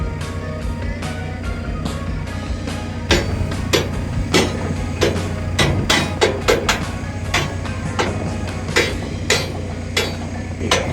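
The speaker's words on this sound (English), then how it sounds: "Again, a mallet is going to be your friend here." A mallet taps an idler hub shaft into its bearing on the bracket of a pea auger for a John Deere combine header, giving a string of sharp, irregular metallic knocks over a steady low mechanical hum.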